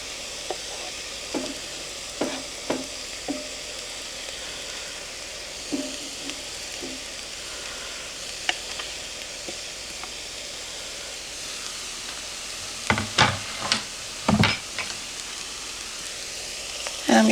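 Grated sweet potato and vegetables sizzle in a pan under a steady, soft hiss, with scattered scrapes and clanks of stirring that bunch up toward the end.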